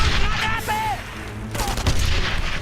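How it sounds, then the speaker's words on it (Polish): A Thompson submachine gun fires in the World War II shooter Enemy Front, loud bursts of gunfire mixed with other battle noise and brief whistling tones across a few seconds. "mnie się tak bardzo podoba strzał z Thompsona"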